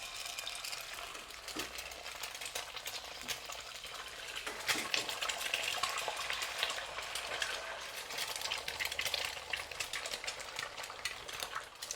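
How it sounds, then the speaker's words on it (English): Eggs fry in sesame oil over medium heat for a Chinese minced-pork stir fry, giving a steady, close crackling sizzle with a few faint clinks and no talking. "Using the same oil and using medium heat, we will now fry our eggs."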